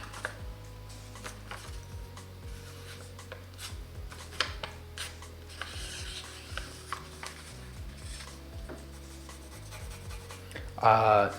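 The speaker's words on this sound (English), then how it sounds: "I'm using a 4B pencil." Graphite from a 4B pencil, a Staedtler Mars Lumograph Black, scratches and rubs across paper in short, steady strokes at close range, with faint background hum and a brief louder rustle near the end.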